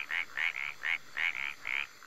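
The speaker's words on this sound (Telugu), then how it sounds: "ఓ పక్క నుంచి కప్పలు," Frogs croak at midnight in a series of about seven rhythmic, buzzy pulses, some paired, moderately close against a quiet background, with no talking.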